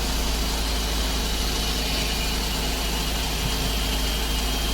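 A car engine idles steadily and evenly after its electric throttle body was cleaned to fix a rough idle, a constant close hum with no revving or talk.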